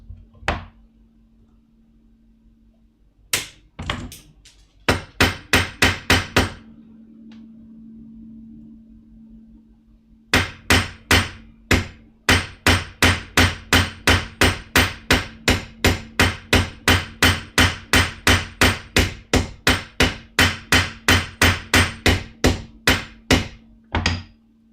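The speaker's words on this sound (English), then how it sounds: "If you're using peening rivets, pay attention to the sound a lot." Metal hammer peening rivets on a leather vambrace, sharp ringing strikes in quick rapid bursts separated by pauses, then a long steady run of regular blows, loud and close with a faint hum beneath and no talk.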